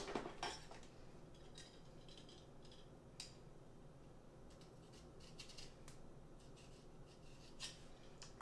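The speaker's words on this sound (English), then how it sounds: "I'm going to cut up my garnish a little bit to make it look prettier" A knife trims a garnish for a classic 1800s-style martini, giving soft scattered clicks and light taps of blade on board, close but quiet, with no talking.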